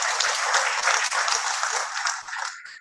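An audience at a youth internet governance forum in Nigeria breaks into brief, dense applause, a burst of clapping that holds steady for about three seconds and then tapers off.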